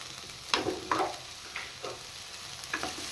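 Onion and capsicum frying in a pan are stirred with a spatula, giving several distinct scraping strokes over a soft, steady sizzle, close and moderately loud.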